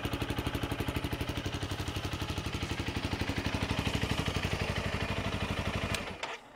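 A Honda CRF300L with a MotoX exhaust, baffle fitted, runs at a steady held rev during a static RPM test. It gives a loud, even stream of rapid engine pulses that cuts off abruptly near the end.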